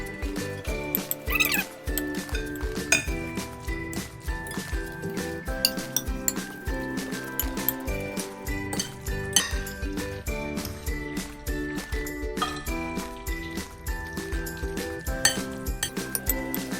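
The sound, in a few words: stirring sautéed ground meat with oyster sauce in a pan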